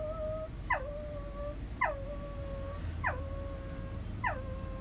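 A person mimics a dog whimpering and howling: four drawn-out, falling whines spaced about a second apart. Each is clear and close, over a faint background hiss.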